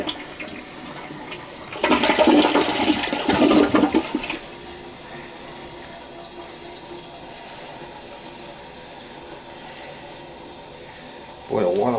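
A toilet with flushing trouble and a low water level is flushed, giving a loud close roar of rushing water for a couple of seconds. It then settles into a quieter, steady refill hiss with no speech.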